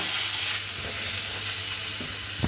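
A spice paste of tomato, onion and ginger, seasoned with salt, is stir-fried in a pan with a steady loud sizzle and hiss, and a couple of stirring scrapes come at the end.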